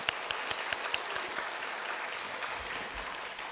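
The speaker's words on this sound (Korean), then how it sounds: "박수로 한번 해주시고" A church congregation applauds during a Sunday morning worship service in Korea, a steady wash of many hands clapping at moderate volume, sustained evenly for several seconds with no voices over it.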